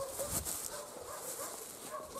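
A dog in a snowy village barks a few times at dogs held on chains, the yaps faint and fairly distant over a steady background hiss.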